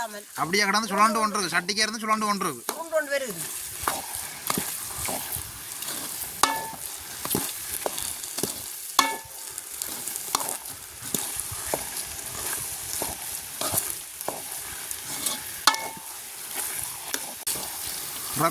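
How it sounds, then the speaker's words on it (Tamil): Oil puttu stir-fried in a pan over a village cooking fire, with a low background sizzle punctuated by repeated sharp scrapes and knocks of a spoon against the pan, while people talk early on. "எண்ணெய் புட்டு தயாராகிக்குது"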